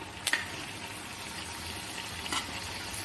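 Fenugreek seeds sizzle quietly in hot oil while a tomato coconut milk curry is prepared, a soft steady frying hiss with a couple of faint clicks near the start and again shortly after.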